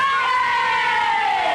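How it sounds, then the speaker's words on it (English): Children at a school in the 1940 drama Little Men raise one long, loud cheer together for Mr. Fox. The sustained voices slide gradually downward in pitch. "Let's give a great big cheer for"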